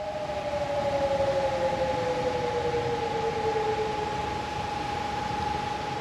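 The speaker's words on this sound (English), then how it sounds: "The sirens came again. Yes, the sound of sirens" Civil defense sirens wail in a steady, sustained tone with a slowly falling second pitch, heard from a distance over broad background hiss, continuous throughout with no talking.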